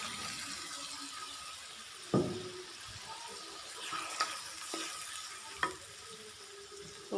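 Beef sautéing in a pan with salt while being cooked down for khichuri, a steady low sizzle with a few sharp clinks of a utensil against the pan.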